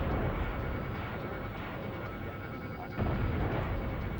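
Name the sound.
firing a Surefire missile at an airplane in a video game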